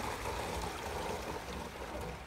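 Rainwater from a large harvesting system flows into a storage tank, a steady, faint rushing and trickling wash of water that continues evenly throughout.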